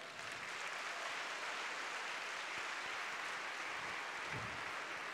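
An audience at a jam session applauds the musicians, a steady wash of clapping from many hands heard at a distance, continuous for several seconds.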